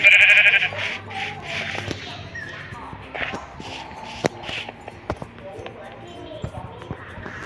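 Minecraft sheep bleating in a survival game, several short nasal bleats in the first seconds followed by scattered clicks and thumps of in-game actions, with a voice talking at times.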